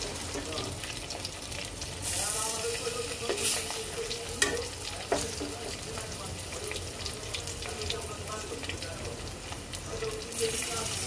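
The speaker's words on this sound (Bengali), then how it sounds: "তো চলো প্রত্যেকটা মাছ সুন্দর করে একটু ভেজে নেই" Hilsa fish pieces frying one by one in hot oil in a kadai, a continuous close sizzle with bursts and crackles as pieces go in, occasional clinks, and a voice talking intermittently over it.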